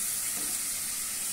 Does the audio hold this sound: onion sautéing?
yes